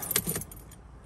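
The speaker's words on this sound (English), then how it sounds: "Now let's turn the ignition off." A quick metallic jangle of keys and a click near the start as the ignition is turned off in a Mercedes ML280, short and close, then a quiet inside the car.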